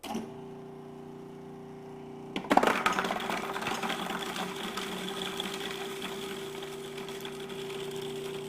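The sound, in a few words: Cuisinart food processor chopping garlic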